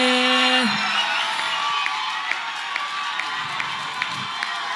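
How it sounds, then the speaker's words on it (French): An excited crowd at a competition in Bukavu, South Kivu, cheers and acclaims Rabbi Cédric, a steady roar of shouting and whooping that holds throughout at a loud, even level, with a tone sounding briefly at the start. "Est-ce qu'on peut acclamer pour Rabbi Cédric, s'il vous plaît?"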